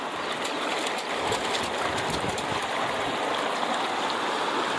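Water rushes steadily through a gold sluice box lined with miner's moss at a placer site in Fairplay, Colorado, a close, continuous broadband gushing with no talking.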